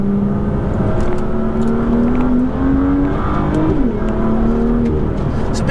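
A BMW sports car, an M140 or M2 with a B58 or N55 straight-six, revs and accelerates hard on a private road, its engine note climbing steadily, briefly easing at a shift, then pulling up again, loud and close.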